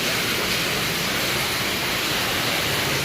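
Steady, even rush of water pouring into a drain in a condominium compound, continuous hiss and splash with no break.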